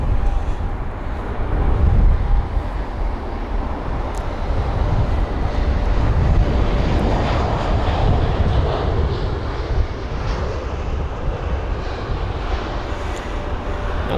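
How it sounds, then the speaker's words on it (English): A British Airways Airbus A319 jet roars steadily at Heathrow airport, a loud sustained engine rumble with rising and falling whine, heard alone without talk. "That was the Glasgow A319, another British Airways jet."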